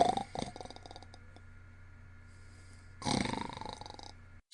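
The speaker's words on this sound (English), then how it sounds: "Snores, but wakes up again at once." A man snores in a dramatised reading of a Chekhov play, rough rattling breaths with a short pause between and a louder snort near the end, no talk over them.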